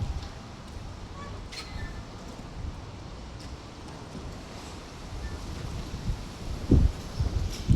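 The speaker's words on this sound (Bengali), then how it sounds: "কি পরিমাণে মনে হয় ঝড় উঠছে সেই রকম হইতেছে" Strong gusty wind rises ahead of a storm, roaring at the microphone as leaves rustle nearby, with louder low buffets toward the end.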